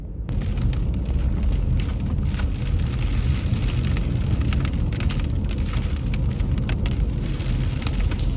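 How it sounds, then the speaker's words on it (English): Steady heavy rain pours down in a rainforest, a dense continuous hiss with scattered drops pattering on nearby surfaces throughout. "And also it's raining out."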